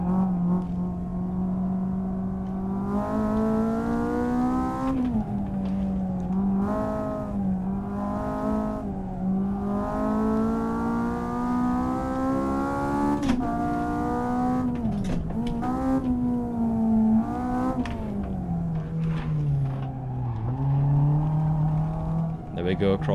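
A car revs hard through a fast timed run, its engine note climbing and dropping with each gear change and braking point, loud and close throughout with no pauses.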